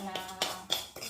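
A spoon clinks against a bowl while mango pickle is mixed, giving four light, close taps in quick succession with faint ringing between them.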